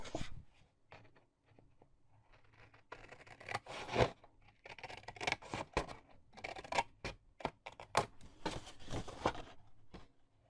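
Scissors snipping paper along a traced diagonal for a Stampin' Up! card storage box, a quiet run of short irregular cuts and crisp rustles, close and alone.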